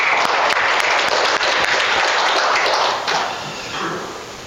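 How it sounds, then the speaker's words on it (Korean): A church congregation at a Korean Baptist service claps in loud, dense applause that fills the room and fades a little toward the end. "우리 격려하는 박수 한번 해주실까요?"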